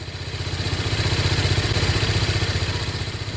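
A TVS Apache RR310 motorcycle exhaust runs steadily near idle, a close, loud, metallic chuffing pulse with a clattery, clanky edge throughout, no voices over it.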